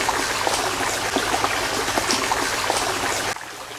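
Water splashes and trickles in a continuous, bright, close-up stream for several seconds, then cuts off abruptly near the end; no voices are heard.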